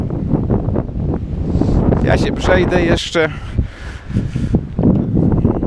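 Strong sea wind on a beach at Vendres, France, buffets the microphone with a loud, steady roar while a person speaks over it.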